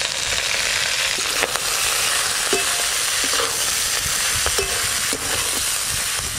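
Tender fenugreek greens stir-fried with eggplant in mustard oil with salt, a steady close sizzle with occasional scraping stirs of a spatula throughout, no voices.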